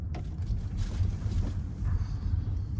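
Land Rover Discovery SI6 driving on a street, a steady low road rumble with wind noise across the cabin microphone, continuous and fairly loud with no talk.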